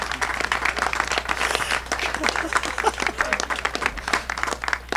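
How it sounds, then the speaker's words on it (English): Audience at a transit press announcement gives a round of applause, a steady patter of many hands clapping at moderate volume over a low hum, lasting throughout. "complete fishing for applause on my part there, so just glad to see it worked"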